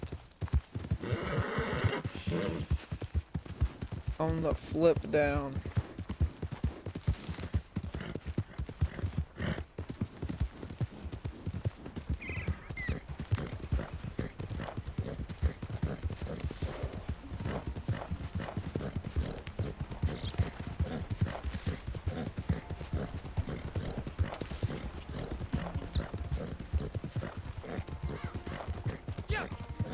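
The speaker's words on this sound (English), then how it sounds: "Calm down, horse." Horse hooves clip-clop in a steady, continuous rhythm in Red Dead Redemption 2 Online, with a neigh near the start, as a person talks over the galloping.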